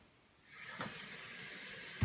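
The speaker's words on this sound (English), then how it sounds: "you want to wash your hands properly with soap and warm water" Warm tap water runs steadily into a sink during handwashing, a close, even hiss that starts after a brief quiet moment and ends with a louder splash or knock.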